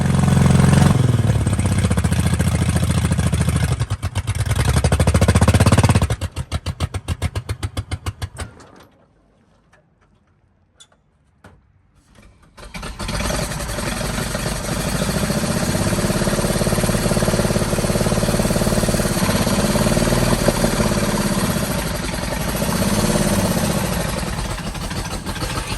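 A 1951 Willys jeep truck engine, running for the first time in 43 years, idles loudly and close with a steady mechanical clatter. It cuts out briefly midway, then runs steadily again.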